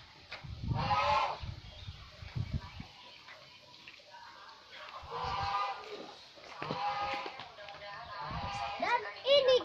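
Long-necked geese at a poultry seller give repeated honking bursts at close range, mixed with the chatter of people and children nearby.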